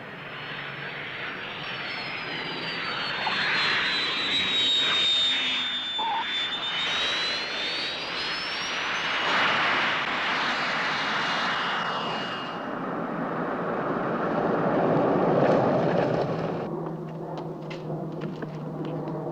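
Steady airplane engine roar inside the cabin during landing, loud and continuous with a whining tone that rises and falls, then shifts lower near the end.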